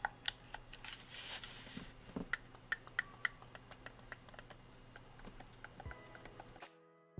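Xbox Series controller buttons clicked in quick, uneven succession, a run of close, sharp plastic taps and clicks over a quiet background.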